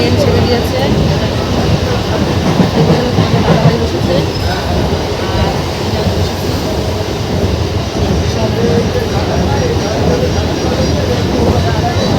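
A train runs along the rails with a continuous rumble and clatter, heard from inside or close by, with faint voices under the noise.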